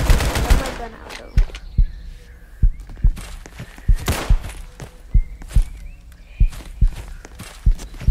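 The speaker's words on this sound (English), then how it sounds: "I was clearly shooting him." Shots ring out in a first-person shooter game, repeated sharp bangs at an irregular pace, loud and close, with a faster burst at the start and a voice reacting in between.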